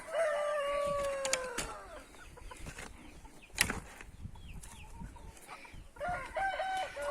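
Several dwarf Cochin roosters crow one after another, drawn-out calls overlapping at the start and again near the end, with clucking and farmyard bird noise between them and no talk.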